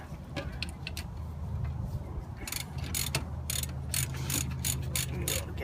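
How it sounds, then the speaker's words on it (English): A ratchet tightening rear brake parts on a 2006 Cadillac CTS makes quick runs of close metallic clicks in short bursts, moderately loud over faint background noise. "And we'll get our ratchet."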